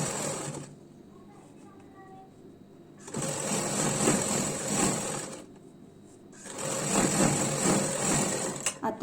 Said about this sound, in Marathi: आता याच्यावरती आपल्याला डबल शिलाई करून घ्यायची आहे।